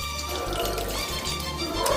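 Tamarind water poured from a vessel into a pan of frying fish for a Nellore-style fish curry, a close, steady liquid pour with a trickling, running texture lasting a couple of seconds.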